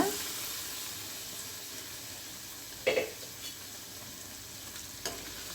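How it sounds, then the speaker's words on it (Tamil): A steady, soft sizzling bubble from a pan of chickpea curry (channa masala) with water simmering on the heat, with a few light clinks of a utensil against the pan. "நம்மளுக்கு இது கொஞ்சம் நேரம் நல்லா கொதித்து பச்சை வாசனையெல்லாம் நல்லா போகட்டும்."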